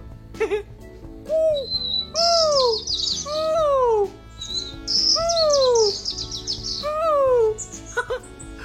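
A voice imitates a bird, whistling rising and falling chirps and warbling tweets in repeated phrases, loud and close, with some high trills layered over a low steady background.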